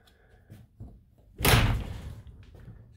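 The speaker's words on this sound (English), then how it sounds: "We're going to close the door." An off-road camper trailer door swings shut from inside with a single solid thud and a short rattling decay, preceded by a few soft handling knocks.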